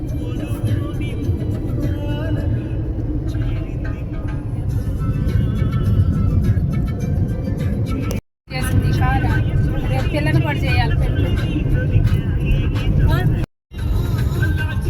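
Steady low road rumble of a loaded car driving through LB Nagar, Hyderabad, fills the whole stretch, with talk over it and two brief dropouts.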